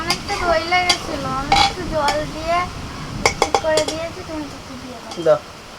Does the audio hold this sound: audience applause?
no